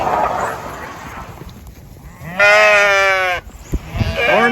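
Sheep on a farm bleat loudly and close by, with one long sustained bleat and another starting at the end over light background noise.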